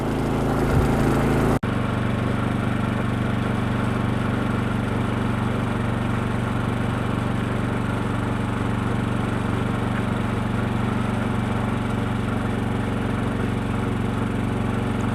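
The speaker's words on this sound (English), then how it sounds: "this is with a 21 amp load, a full load on the generator with the sound box" A portable generator inside a DIY styrofoam noise reduction box drones steadily and loudly up close, its engine running under a full 21 amp load with a constant low hum and no pauses.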